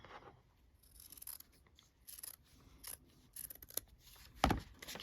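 Scissors snip through paper and fabric, trimming the seam allowance on a paper-pieced quilt block; a run of short, close, quiet cuts ends in one sharper, louder snip.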